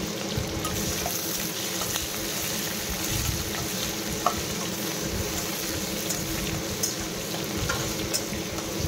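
Onions fry in hot mustard oil with five-spice in a kadai, giving a steady, loud sizzle and crackle with small pops throughout and no voices.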